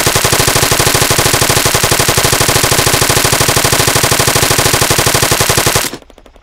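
Sustained rapid automatic gunfire in Arma 3, loud and relentless, with dense evenly spaced bursts that stop abruptly near the end.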